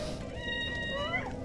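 A cat in a TikTok clip gives a short, clear meow with a rising then falling pitch, over faint background noise.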